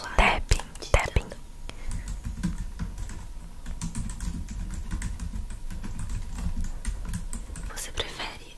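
Rapid typing on a computer keyboard for ASMR: dense, close clicking and clacking keys in a steady patter, with soft whispering alongside.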